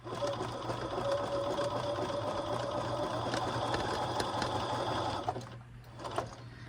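A sewing machine stitches patchwork appliqué onto jeans, a close, steady mechanical whirring hum with rapid needle chatter that runs continuously, then slows and stops near the end with a few faint clicks.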